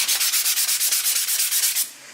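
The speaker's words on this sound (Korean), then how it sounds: "보다 높은 숫자를 이용하여 사포질을 해줍니다" Brisk back-and-forth strokes of higher-grit sandpaper rubbing a wooden surface, about a dozen even, rhythmic passes close up before stopping, with no talk.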